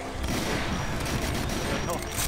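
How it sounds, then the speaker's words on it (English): Pistol fire in the classic shooter Doom: rapid repeated gunshots crackling loudly over a busy game din, with a voice talking over part of it. "I got lots of pistol ammo. Use some of those."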